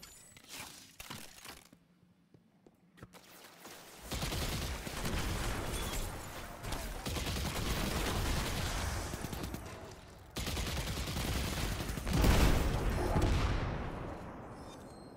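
Dense gunfire fills the game Destiny 2, rapid bursts of shots rolling almost continuously after a short quiet opening, loud and close with brief gaps between volleys.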